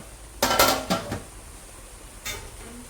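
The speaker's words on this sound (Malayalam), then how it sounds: "ഞാൻ ഇടയ്ക്കിടയ്ക്ക് ഇങ്ങനെ ഈ തുറന്ന് ഇളക്കുന്നത്" A pot lid comes off and metal clatters against the pot while rice is stirred on a gas stove for coconut rice. Three or four sharp clanks come close together early, then one lighter knock follows after a pause.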